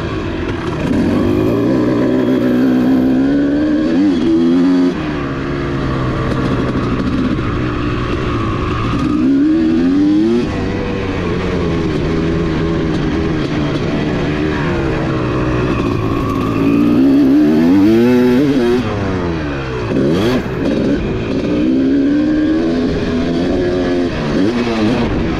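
A Yamaha SX motorcycle engine revs and shifts continuously up close, pitch rising and falling with acceleration and gear changes, loud and unbroken throughout.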